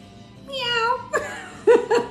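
A cat gives a few short, close meows, with a soft vocal sound before them in an otherwise quiet room.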